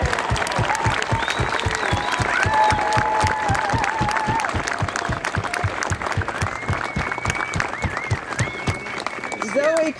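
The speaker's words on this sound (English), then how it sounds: "a round of applause for Lenny Roberts" A crowd applauds Lenny Roberts with a dense, steady clapping rhythm that stays loud for the full stretch, joined by scattered cheers and voices.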